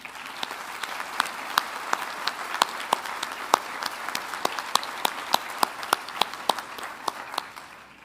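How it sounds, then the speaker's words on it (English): A small audience at a research center groundbreaking ceremony gives a brief round of applause: a thin, sparse patter of individual claps in an uneven rhythm that tails off quietly at the end. "give Norm a quick round of applause"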